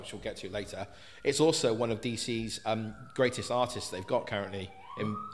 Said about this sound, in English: I'm very sorry about the sirens that keep going past outside.